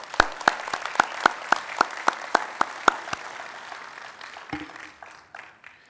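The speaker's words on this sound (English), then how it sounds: "Let's give them all a round of applause." A commencement audience at a county high school ceremony claps in a regular rhythm. Sharp, evenly spaced claps ring out for about three seconds, then fade into scattered, softer clapping as the applause dies away.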